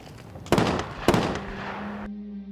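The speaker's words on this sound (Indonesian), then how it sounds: "Mereka yang masih bergerak diberondong lagi dengan peluru." Gunfire bursts in an action film scene of a special forces battle against ISIS fighters: two sharp, loud cracks about half a second apart that ring out under a sustained low score, with no talking.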